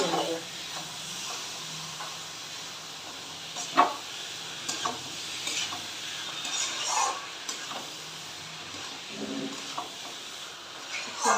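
Boiled bottle gourd is stirred into fried masala in a pan for a Bengali gourd and prawn dish, with repeated scraping strokes over a soft steady sizzle.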